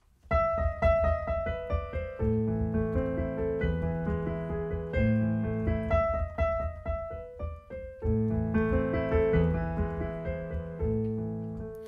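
A piano plays a section of Beethoven's Für Elise, a melody over low sustained chords, recorded up close. The phrase repeats at an even, unhurried pace with no talking.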